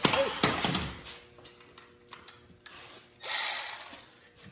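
A ratchet wrench tightens a bolt back onto a truck's fender well during a firewall shield install, giving a few quick clicking bursts with short pauses, close and clear, without talk.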